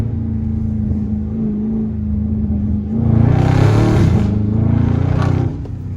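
A Dodge Scat Pack car accelerates hard at night, its engine droning low and steady before surging into a loud, rising roar that holds for a few seconds and then eases off, heard from inside.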